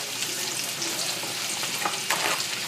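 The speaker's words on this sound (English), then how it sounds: "here we're just melting the butter, and we're going to add our shallots" Shallots and mushrooms sizzle in melted butter, a bright steady frying hiss with scattered pops and a few scraping stirs in the pan, no voices over it.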